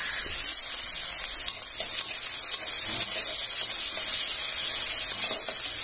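Onion fries in a hot wok with a close, steady hiss and sizzle, broken by a few soft clinks and stirring knocks, with no talk.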